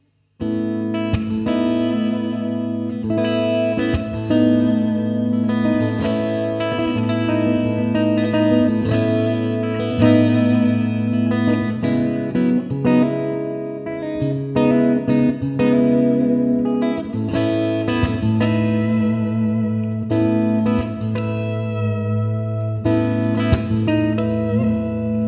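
Ibanez Prestige S5570Q electric guitar played through a Laney L20T 2x12 tube amp, ringing chords and picked notes with effects-laden, reverberant tone, loud and continuous for the whole stretch with no talking.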